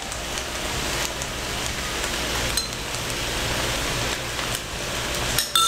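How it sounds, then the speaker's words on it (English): Yakisoba noodles sizzling in a pan as sauce is drizzled in, a steady dense hiss throughout with small crackles, close and loud with no talking. "We're gonna just add in the yakisoba sauce. So I'm just gonna drizzle some around"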